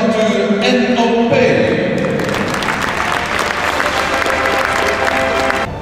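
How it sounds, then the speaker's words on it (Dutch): An audience at the Jumping Amsterdam show jumping event breaks into loud, sustained applause, a dense wash of clapping that holds steady for several seconds before easing slightly at the end. "Dames en heren, geef u een fantastisch applaus."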